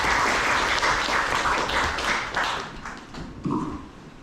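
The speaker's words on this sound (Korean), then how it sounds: "큰 박수로 환영 부탁드립니다." Audience applause welcoming a professor to the front at a women's suicide prevention seminar, a steady wash of clapping that thins and fades over a few seconds with no talk over it.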